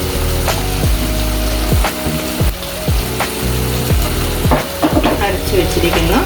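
Chicken kurma being stirred as a ground coconut and cashew gravy goes in, with a spoon scraping the pot in repeated strokes over a steady sizzle and occasional clinks.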